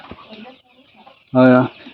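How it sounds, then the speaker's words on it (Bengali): A single loud, harmonic honking call from a male Chinese duck bursts out after a stretch of quiet, murmured talk in the background. "এই যে আপনারা যে একটি চীনা হাঁস দেখতে পাচ্ছেন"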